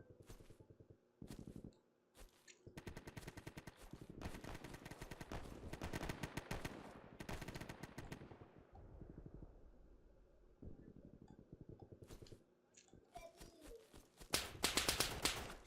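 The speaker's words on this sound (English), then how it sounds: "maybe it's just stray shots coming this way" Gunfire crackles through the Easy Red 2 video game on a custom Southern France map. Bursts of automatic fire alternate with single shots, some near and loud and others distant strays, with brief quiet gaps between volleys.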